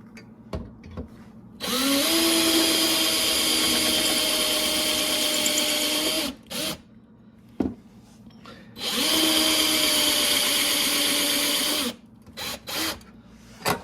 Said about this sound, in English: Make sure I'm drilling straight up.